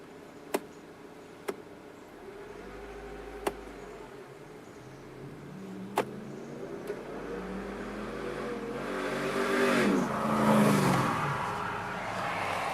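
A 1999 Mazda Protege with an automatic transmission idles while being shifted through the gears, its low engine hum rising in pitch toward the end, punctuated by a few sharp ticks from the shifter.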